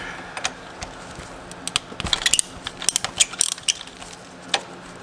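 Wrench loosening the mounting bolts on a high pressure fuel pump in an Infiniti Q50/Q60: irregular close metallic clicks and small clatters, bunched in the middle, with no talking.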